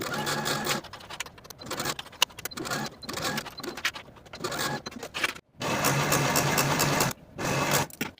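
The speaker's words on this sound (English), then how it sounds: "And then sew both seams with a 3/8 inch seam allowance and finish the raw edges." A sewing machine runs in bursts as it stitches the sleeve seams of a gathered neck ruffle blouse at a 3/8 inch seam allowance. Close, whirring runs stop and start, the longest near the end, with brief pauses between them.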